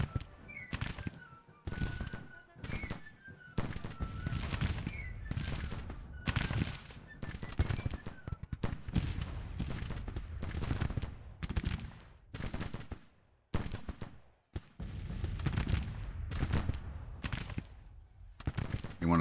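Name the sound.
Civil War troops firing rifles in video game Grand Tactician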